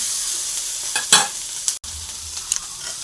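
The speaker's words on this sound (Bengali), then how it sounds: "ছোট আলু, ক্যাপসিকাম, মটরশুঁটি দিয়ে একসাথে আমি ভাজতে লাগলাম।" Small potatoes, capsicum and peas frying together in a pan, a soft steady sizzle with a few stirring scrapes and a brief clatter of the spatula partway through, close and fairly quiet.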